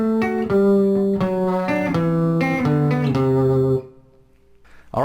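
A bright, plucked guitar plays a keyboard break from a song, a short melodic phrase of chords and runs, then pauses briefly before another note starts.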